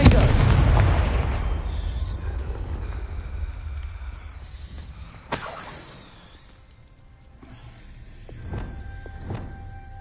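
A Confringo blasting spell erupts in Hogwarts Legacy with a loud, rumbling blast that decays over several seconds, then a sharp crack near the midpoint and fainter pops and shimmering tones toward the end.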